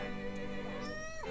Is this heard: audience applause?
no